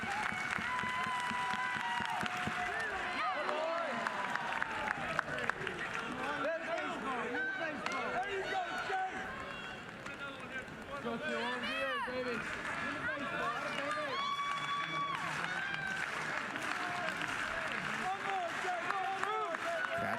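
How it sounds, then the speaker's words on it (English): A college baseball crowd at Fountains Park, Oklahoma Sooners against South Carolina Gamecocks, rallies behind pitcher Jake McCoy with a steady roar of cheers and claps, with a commentator talking over it throughout. "Crowd here at Fountains Park getting behind Jake McCoy"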